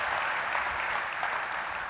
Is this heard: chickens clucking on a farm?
no